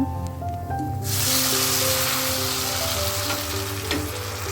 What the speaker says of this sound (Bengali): এখন ডালটা বাগার দিয়ে দিব।